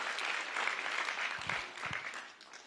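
Soft, distant applause from a crowd at an elementary school third-grade showcase, a brief steady patter of many hands that fades toward the end.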